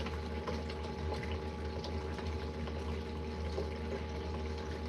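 Water runs steadily through a small gold sluice box in the Missouri Ozarks, a continuous close rushing and trickling flow that holds a constant level throughout with no speech.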